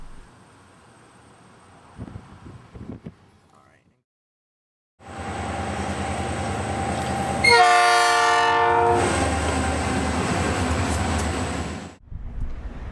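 A train in Gary, Indiana rolls past with a steady loud rumble and blasts its horn in a sustained chord mid-pass, then cuts off abruptly.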